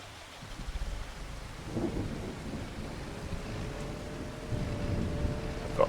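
Steady video-game rain pours throughout with low rumbling thunder rolling underneath, building slightly louder toward the end; no voices.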